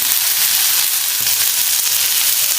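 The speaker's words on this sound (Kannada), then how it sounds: "ಇದು ಕೂಡ ಚೆನ್ನಾಗಿ ಎಣ್ಣೆಯಲ್ಲಿ ಫ್ರೈ ಆಗಬೇಕು." Mutton pepper fry sizzling hard in hot oil, a loud, continuous close-up hiss with fine crackling that holds steady throughout, no voices.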